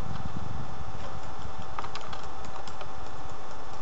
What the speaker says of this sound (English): look at you typing away